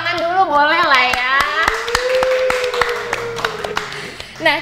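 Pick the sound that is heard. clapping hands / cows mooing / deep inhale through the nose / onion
clapping hands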